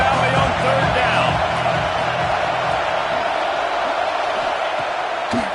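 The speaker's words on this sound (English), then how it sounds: "Here comes the noise from this big crowd in Happy Valley on 3rd down." A big stadium crowd roars in the college football video game NCAA 26 at Happy Valley on third down, a continuous loud wash of cheering and whoops under a commentator's voice.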